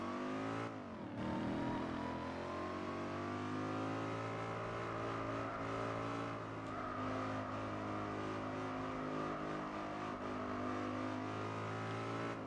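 A car engine in a Gran Turismo 4 race holds a steady high drone after a sharp rev at the start, loud and close, with no voices.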